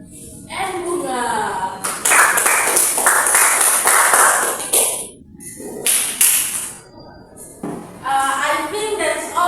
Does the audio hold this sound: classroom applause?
yes